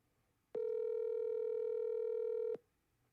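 A single telephone tone sounds during an outgoing sales call before it goes to voicemail, a steady two-second electronic beep standing alone against faint background hiss.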